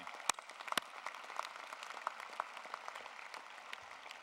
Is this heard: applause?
yes